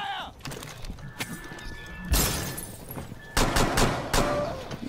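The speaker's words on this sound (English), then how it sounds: "Stop shooting me." Gunfire in the tactical shooter video game Rainbow Six Siege, with sharp loud bursts of rapid shots and scattered single cracks, some nearby and some more distant, alongside crashing debris.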